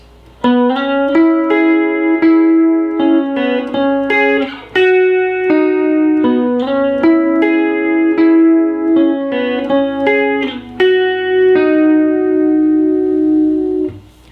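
A single electric guitar slowly plays a harmony line from a song, with slides and sustained notes, clean and close, no voices.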